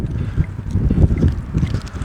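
Gusty wind blowing through a yard buffets the microphone in a low, fluctuating rumble that rises and falls over a couple of seconds.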